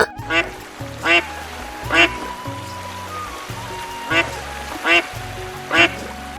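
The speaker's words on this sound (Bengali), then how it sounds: "এটা হলো হাঁস। হাঁসকে ইংরেজিতে বলে ডাক।" A duck quacks loudly and close, six distinct nasal quacks spaced roughly a second apart over a low, steady musical backing.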